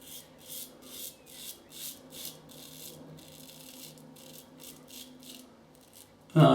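Parker 76R safety razor shaving through lather from Taconic Urban Woods soap, a close, soft rhythmic rasping of strokes in short bursts, ending with a brief louder knock.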